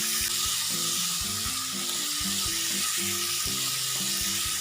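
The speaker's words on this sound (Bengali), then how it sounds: "এবার একটু কষিয়ে নেব" Stuffed tomato filling with salt, turmeric and sugar frying in a pan, a constant loud hissing sizzle running under steady background music.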